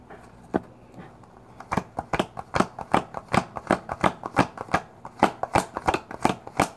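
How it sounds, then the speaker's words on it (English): Tarot cards shuffled by hand, giving a steady run of quick, crisp riffling snaps close to the mic that grow louder and more regular after the first couple of seconds, with no voices. "these are the cards that fell out as I was shuffling"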